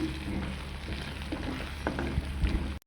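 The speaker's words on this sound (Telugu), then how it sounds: "విధంగా వేయించుకోవాలమ్మా ఈ గుడ్డుని" An egg seasoned with salt and chili powder sizzles and crackles in a hot pan, a continuous close frying hiss with occasional sharper pops, no talking, ending abruptly.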